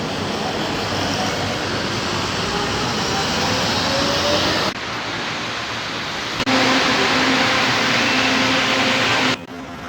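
Steady loud rumble and roar of a train at the MRT Santolan Station in Metro Manila, with a rising tonal whine, continuous for the whole stretch with no talk.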